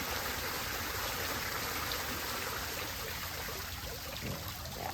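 A backyard pool waterfall pours steadily, giving a dense, even rush of falling water that holds at the same moderate level throughout, with no voices.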